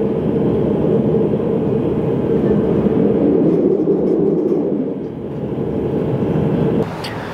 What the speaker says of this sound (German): Mit dem Zug da bin ich von Valaisin nach Chamonix gereist.